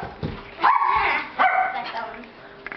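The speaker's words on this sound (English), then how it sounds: "Get on your shoes, Luigi, because there's a little dog outside" A small dog outside gives a few short, high yipping barks at mid distance, mixed in with talking.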